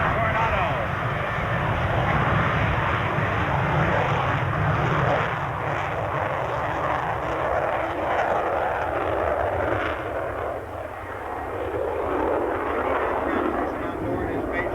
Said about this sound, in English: You'll hear the afterburner kick in now, accelerating down the runway to 160 miles an hour.